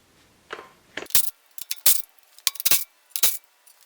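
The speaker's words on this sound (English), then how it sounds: "remove 4 13/16 or 21mm nuts on the back side of the steering knuckle" Metallic clinks and rattles in short irregular bursts from a wrench working loose the 21mm nuts on the back of the steering knuckle of a 2005-2020 Ford F250-F550 Super 60 front axle, close by with no talk.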